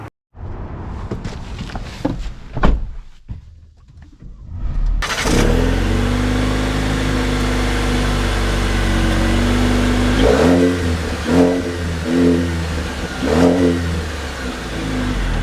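2025 Jeep Compass Trailhawk engine starting quietly, then revving hard from a near-silent cabin into a loud, sustained acceleration, followed by several rising surges as the engine climbs through gears, heard from inside while driving.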